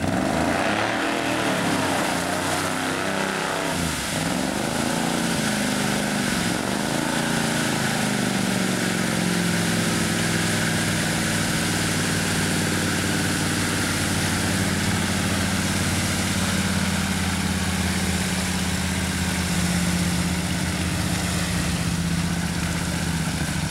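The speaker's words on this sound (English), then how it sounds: "When the engine's idling and your tires are spinning," A vehicle engine idles with a steady low rumble while tires spin in mud in the badlands, a continuous loud drone with a rising and falling whine near the start.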